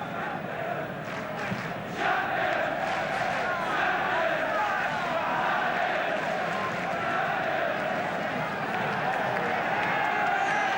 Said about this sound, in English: the United fans are cheering every successful, accurate pass of Manchester United